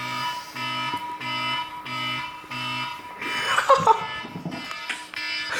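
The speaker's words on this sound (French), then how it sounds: "C'est quoi ton réveil?" An alarm clock rings in a repeating pattern of short electronic beeping pulses, then people talk over it in French as it continues.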